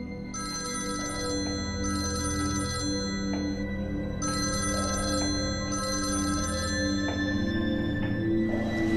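Telephone ringing in repeated bursts of bright electronic trills, four rings separated by short pauses, loud and close with no talking over it.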